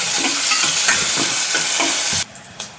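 Chopped onion frying in hot oil with cumin and mustard seeds, a steady loud sizzle with stirring scrapes, then the sizzle drops away sharply near the end leaving a quieter pan and one brief clatter.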